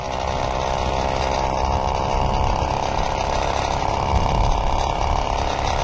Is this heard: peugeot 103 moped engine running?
yes